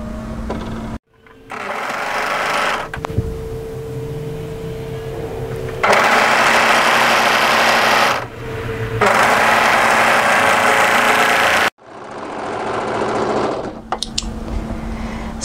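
A sewing machine stitches garment seams in several loud, close bursts of fast mechanical whirring, separated by brief pauses and lighter clicking of the mechanism.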